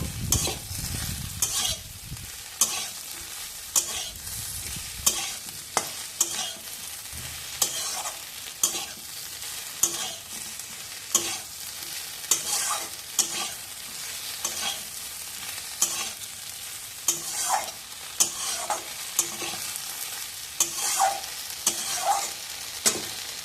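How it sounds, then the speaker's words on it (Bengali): Okra being fried and stirred in a pan for aloo bhindi: a continuous soft sizzle broken by regular sharp scrapes and knocks of the spatula against the pan, with no voices. "এবার একটু আঁচটা বাড়িয়ে একটু নেড়ে নেবো"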